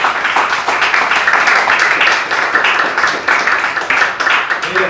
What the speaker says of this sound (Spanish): Que le da un aplauso al Señor.